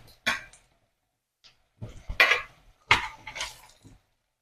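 A spoon scrapes and clinks in a pan of cauliflower, carrot and turnip pickle cooking in oil, sounding in a few short, close bursts separated by quiet pauses.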